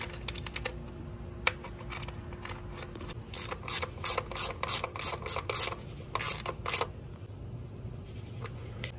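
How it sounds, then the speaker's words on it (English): A ratchet tightens the 8mm bolt on an ignition coil of a 2006-2012 Ford Fusion 2.5L, rapid close clicking in several quick bursts after some light handling knocks, with no talking. "now we're gonna put the 8mm bolt back on"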